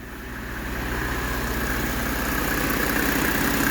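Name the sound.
1995 Mercedes E300 cold engine idling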